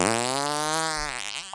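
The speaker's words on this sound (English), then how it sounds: "So it's just like a whoopee cushion." A Tesla car plays a whoopee-cushion style fart sound effect through its speaker, one long loud buzzy tone that holds steady, then wobbles and sputters out near the end.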